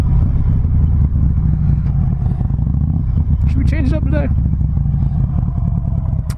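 A 2008 Harley-Davidson Road King with a Twin Cam engine rumbles steadily and loudly up close while riding, with someone talking over the continuous engine note.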